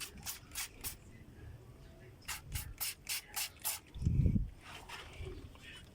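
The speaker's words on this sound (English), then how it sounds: "use this spray can." Short bursts of an aerosol spray can misting cleaner over a Honda R18 engine bay, several quick hisses in two clusters with pauses between, close and moderately loud, with a low thump partway through.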